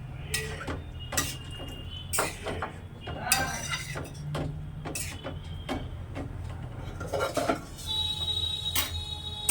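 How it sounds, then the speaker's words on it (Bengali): Pointed gourd and fried shrimp stirred in a pan with water, giving sharp clinks and scrapes of a utensil against metal in an irregular rhythm over a low steady hum, with a brief whir late on. "নেড়ে চেড়ে নিচ্ছি সঙ্গে ভেজে রাখা চিংড়ি মাছগুলো দিয়ে দিচ্ছি"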